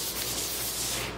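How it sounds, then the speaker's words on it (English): Steady close-up rubbing of 220-grit sandpaper worked by hand over the edges and corners of an end-grain wooden cutting board, a continuous soft hiss without pauses or talk. "Then I went over everything with 220 hand sandpaper to soften up the edges and the corners and all over."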